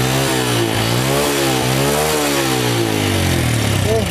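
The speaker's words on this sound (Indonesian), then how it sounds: "Motornya udah hidup, setar langsung greng yo." A Yamaha Supra Fit motorcycle engine, just restarted after an ignition fault, runs close by with a rough, loud idle and repeated rising and falling revs over about four seconds.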